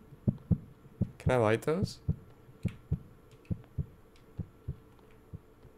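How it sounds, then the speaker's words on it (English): Heartbeat sound in the Mothman horror video game, faint regular thumping beats in slow rhythm, with a short burst of another game sound and a brief spoken question in the middle. "Heartbeat."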